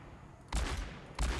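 McCree's gun fires at targets in an Overwatch aim-training mode, with two loud gunshot bursts about two-thirds of a second apart over faint game background.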